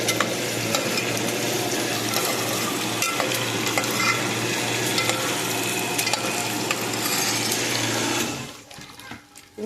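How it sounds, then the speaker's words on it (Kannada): Eggs frying in a pan of oil for a Mangalore-style egg curry give a loud, steady sizzle with a low hum beneath it, then it drops away sharply in the final second. "ಫ್ರೈ ಆಗಲಿ ಚೆನ್ನಾಗಿರುತ್ತೆ ಮೊಟ್ಟೆ ಸ್ವಲ್ಪ ಫ್ರೈ ಮಾಡಿದರೆ"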